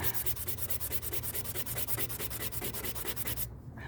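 Steady hand sanding of rattle-can spray paint, a rhythmic back-and-forth scratching rub repeating quickly and evenly, close up, stopping abruptly near the end.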